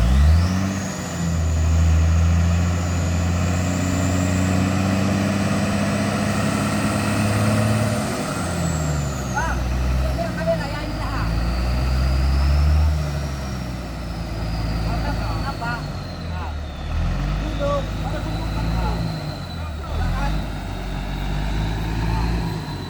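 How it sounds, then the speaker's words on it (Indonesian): A container trailer truck strains up a slippery incline at Kedabuhan. Its loud, close diesel engine drones and revs steadily, with pitch swells and a brief air-brake hiss partway through. "trailer ini menggasing bosku karena ada gundukan di situ dan jalan licin"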